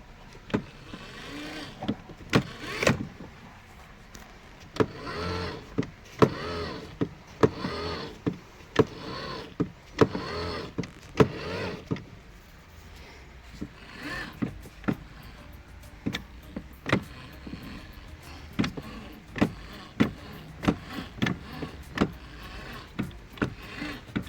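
A small electric motor in a toy Mercedes Unimog whirs in short, repeated bursts as it spins the rear wheels, with clicks between runs; one of its two motors is faulty.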